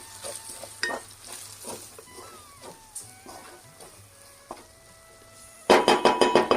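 A spoon stirs biryani masala frying in a pan, producing a soft sizzle broken by scattered scrapes and clinks, then a fast run of loud, rhythmic metallic knocks at the end.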